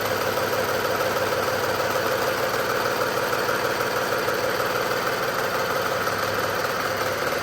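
A serger sewing elastic onto stretch mesh fabric, running continuously with a fast even mechanical chatter and hum, close and steady throughout.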